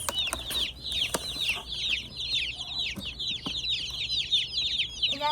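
Newly arrived meat bird chicks peep constantly in a brooder, a dense chorus of high, rapid chirps from many birds close by with faint background rustling.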